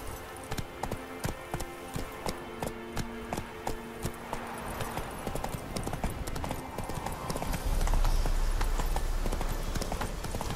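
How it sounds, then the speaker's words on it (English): The horse in The Witcher 3 video game trots along in a steady, rhythmic clip-clop of hooves, with the gait quickening into a faster run near the end and a faint rumble beneath. "Whoa there, Roach. That's it, Roach"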